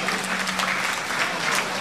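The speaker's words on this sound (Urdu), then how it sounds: "حضرات تالیوں کے ساتھ" Steady, dense applause from an audience at a poetry gathering, broad clapping that stays loud and even throughout with no voices standing out.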